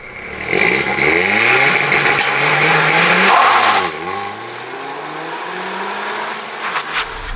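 An Audi Quattro's turbocharged engine revs loudly and close by, its pitch climbing in several rising sweeps, dipping sharply, then climbing again in a long steady pull with no talking.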